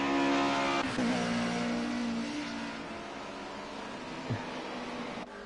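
Historic touring cars racing at Oulton Park, with engines roaring loudly and steadily throughout, a harmonic engine tone shifting as the cars pass, and a brief sharp squeal near the end.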